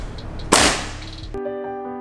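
A single sharp rifle or air-gun shot fired at a row of targets, a loud crack that rings out and decays over about a second, followed by a steady tonal hum.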